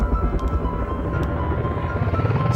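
A helicopter in a video game gives off a continuous, loud rotor thrum and whine that holds steady throughout, with a few faint clicks over it and no talking.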